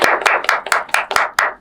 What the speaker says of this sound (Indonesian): mari kita beri tepuk tangan untuk Bapak Kuswari terhormat.